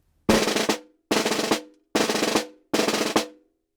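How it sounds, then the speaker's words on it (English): Snare drum playing multiple-bounce buzz strokes on a triplet rhythm: four separate bursts of dense buzzing rolls, each ending in a brief accent, close and clean against silence. "I'm just putting a multiple bounce on each of those triplet strokes."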